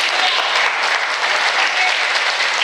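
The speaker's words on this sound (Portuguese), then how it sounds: "Você pode aplaudir o Senhor?" A church congregation applauds the Lord during a sermon, with dense, loud, continuous clapping and a faint crowd murmur filling the room throughout.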